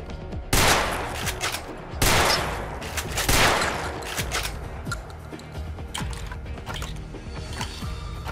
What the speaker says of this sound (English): It's kinda just another pump action shotgun